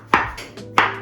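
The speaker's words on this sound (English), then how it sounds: "I'm just roughly chopping these." A knife roughly dices mushrooms on a cutting board, with three crisp chops at an uneven pace, close and clear with no talking.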